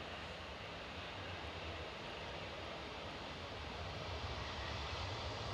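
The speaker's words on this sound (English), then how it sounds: "Oh, is this the quietest takeoff in the show?" An airliner taking off at Edinburgh Airport, heard as a faint, steady, distant jet-engine roar with an even wash of noise and no other clear sounds.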